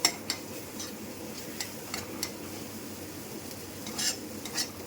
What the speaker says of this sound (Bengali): এই দেখো ভাজা প্রায় হয়ে আসছে